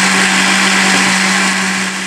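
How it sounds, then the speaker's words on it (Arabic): An electric blender runs at full power, loud and continuous, whirring as it grinds a crème chantilly mixture for homemade ice cream, with a slight dip in strength near the end. "هنايا ان شاء الله غادي نطحن هاد المكونات كامله ان شاء الله"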